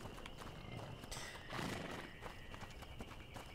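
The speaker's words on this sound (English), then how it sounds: "Why is this horse hooked up?" Horse hitched to a wagon in the video game A Plague Tale: Innocence: quiet hoof clip-clops and a soft whinny close by over low ambient game sound, with a brief louder rustle midway.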